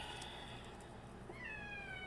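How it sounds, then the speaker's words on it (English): A cat meows faintly once in the background, a thin rising-then-falling cry over steady low room noise, with no talking. "Yeah, that, you hear that, cat?"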